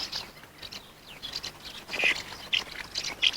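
Housemartins at a nesting colony on coastal cliffs in the British Isles, giving short, faint, scattered chirps and twitters over a soft background hiss.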